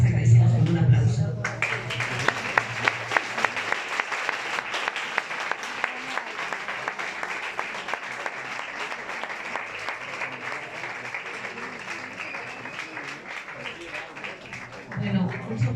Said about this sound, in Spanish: y nuevamente les agradecemos con un aplauso